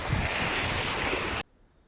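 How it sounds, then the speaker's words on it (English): Sea surf washes onto the shore in a steady loud roar with wind buffeting the microphone, then cuts off abruptly. "Obviously I'm down at the sea."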